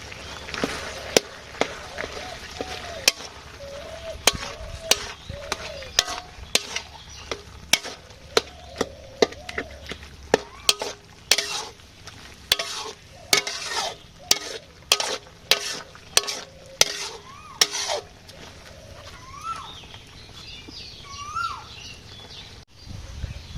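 A fish curry simmers in a pan as a spoon stirs and scrapes it in a run of sharp, repeated clinks over a steady low sizzle, with faint birdsong in the background.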